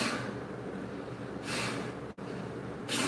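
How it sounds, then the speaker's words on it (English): A person with a bunny allergy sniffles close to the microphone, giving two long, wet nasal inhales separated by quieter breathing. "I got the sniffles now, so get used to it."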